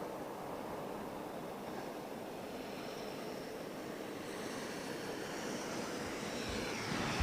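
An Emirates airliner takes off at Heathrow Airport, a steady, distant broadband jet roar that swells slightly toward the end, with no voices.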